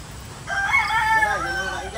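A rooster crows once at close range in a rural Cavite setting in the Philippines, a single drawn-out call lasting over a second, loud and clear above faint background noise.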